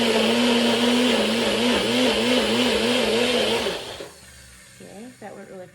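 A juicer grinds quarters of fresh celery with a loud, steady motorized whir and a wavering pitch for about four seconds, then cuts off abruptly, leaving faint clatter and rustling.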